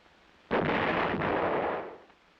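A howitzer of an American field artillery unit fires a single loud round, a sudden booming blast that rolls on for about a second and a half before fading.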